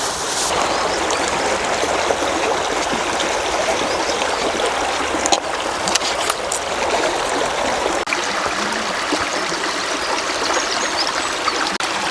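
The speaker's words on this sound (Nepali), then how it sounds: "ल अब चाहिँ भाँडा धुने कार्यक्रम हुँदैछ" Running water splashes and trickles steadily while dishes are washed outdoors at a Dartmoor camp, a continuous close rushing with a few brief clinks.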